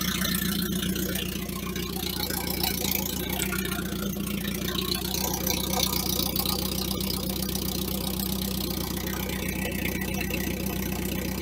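A Volvo 240 engine idles steadily for the whole stretch, a close, continuous low rumble with a faint mechanical tick running through it and no voices.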